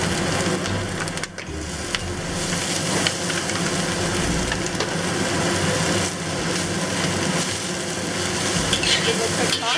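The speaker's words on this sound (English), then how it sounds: "And just toss it for about 15 seconds. We'll add all the mushrooms." Mushrooms and tofu toss in a hot pan over medium-high heat, giving a loud, continuous sizzle with scraping and stirring clatter throughout, up close and without talk.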